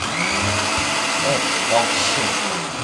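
A blender grinds carrots and other vegetables for CCA juice with a loud, steady whirring roar that has slight wobbles in pitch, heard alone from close by.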